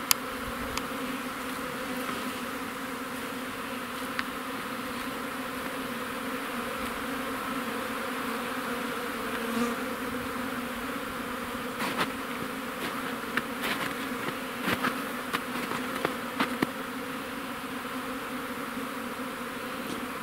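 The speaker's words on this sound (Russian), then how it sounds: "пчелы хорошо пригрело тут, хорошо они летают" Honeybees flying around their hive on an early spring cleansing flight in sunshine, a steady dense buzzing hum that lasts throughout, close by, with a few brief clicks and knocks scattered on top.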